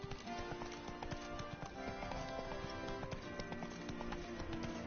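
A horse gallops in a steady, quick clip-clop rhythm in the video game The Witcher: Wild Hunt, fairly quiet and continuous throughout with no talking over it.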